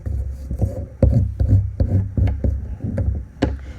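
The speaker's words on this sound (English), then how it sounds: "I'm going to do the same thing with my crayon, except instead of up and down, I'm going to just rub across" A crayon rubbed back and forth across cardboard gives a close, dry scraping in repeated strokes with a steady rhythm, fairly loud and heard alone.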